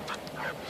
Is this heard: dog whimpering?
yes